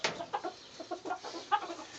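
Backyard laying hens cluck softly and repeatedly, a string of short, close, moderately quiet clucks in an uneven rhythm with no talking.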